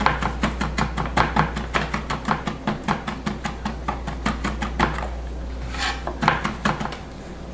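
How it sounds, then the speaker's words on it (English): A knife chops garlic finely on a cutting board in a culinary arts kitchen: rapid, steady rhythmic taps, close and crisp, running throughout over a constant low hum, with no talking. "and then just kind of mince it up. Minced or chopped, nice and fine."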